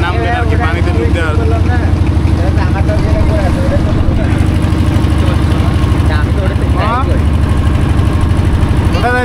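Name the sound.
engine boat ride on Patul wetland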